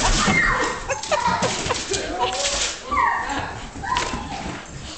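A puppy gives high yips and whimpering whines in bursts over several seconds, close by, with some background noise.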